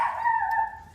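Dogs bark after a cup is set down hard indoors, a short, sharp yap with a tonal whine that holds for about a second before fading slightly.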